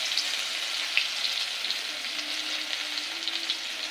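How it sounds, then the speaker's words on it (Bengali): Chopped onion hits hot oil in a frying pan, setting off a continuous loud, close sizzle with faint crackles and a light stirring scrape throughout. "এখন দিয়ে দিব পেঁয়াজ কুচি"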